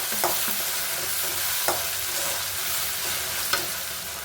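Ingredients fry with a dash of red chili sauce while a utensil stirs the pan, a continuous soft sizzle broken by a few sharp scraping clicks, with no one speaking.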